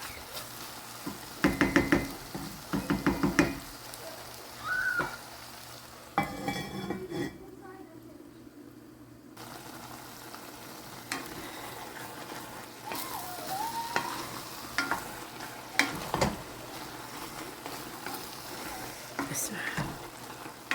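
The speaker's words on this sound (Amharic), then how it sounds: "ቶሎ ቶሎ ማማሰል አለብን።" Vegetables sizzle and fry in a pot while being stirred, with intermittent knocks of a utensil against the pot and occasional talking over the steady frying.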